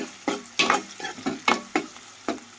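Tempering spices sizzle and crackle in a pan while poha is prepared for breakfast, arriving as sharp bursts roughly every half second, close and moderately loud with no voices.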